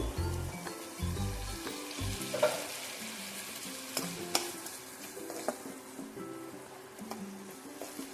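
Ginger-garlic masala for jackfruit do piyaja fries over a low flame after the lid comes off. It sizzles steadily up close while a spatula stirs and scrapes the pan in uneven strokes with occasional clinks, and no one speaks.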